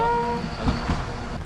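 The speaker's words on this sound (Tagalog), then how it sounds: "Ayan na yung tren." A small purple Sagano Romantic Train, a sightseeing train in Arashiyama, Kyoto, passes nearby: a brief horn tone opens, then a loud rolling rumble of the cars continues.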